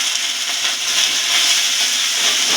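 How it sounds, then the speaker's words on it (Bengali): Ginger and radhuni seeds sizzle in hot oil over medium heat with a bright, steady crackling hiss, fairly loud and even throughout, no voices. "তেল গরম হয়ে গেছে, এবার আদা আর রাঁধুনি ফোড়ন দিলাম।"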